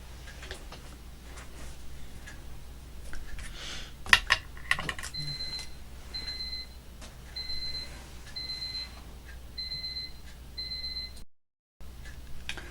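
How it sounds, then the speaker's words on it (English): A medicine reminder alarm goes off in a home, repeating pairs of clear electronic beeps at an even rhythm for several seconds after some handling noises, fairly faint and alone with no talk. "that was my medicine alarm"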